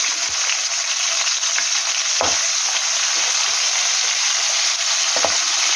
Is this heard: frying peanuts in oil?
yes